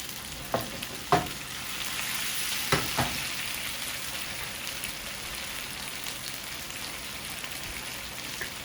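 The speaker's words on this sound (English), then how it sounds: "So we're just gonna saute this off." Chicken stir-fry with broccoli, peppers and onions sautéing in a pan, a steady close sizzle broken by a few sharp utensil clacks early on, then settling into continuous frying.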